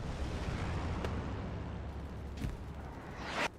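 A rocket strike explodes against a garrison in a multiplayer survival game, a dull boom under a constant rumbling game bed, with brief sharper bursts and a rising hiss near the end.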